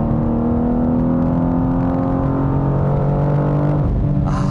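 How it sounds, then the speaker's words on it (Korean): A 2025 BMW M2 with its six-cylinder engine and sport exhaust mode active accelerates hard, giving a steady, rising engine note heard from inside the car that climbs through the revs and then briefly drops as it shifts near the end. "지금 이 멋진 6기통 사운드를 들려주고 있습니다."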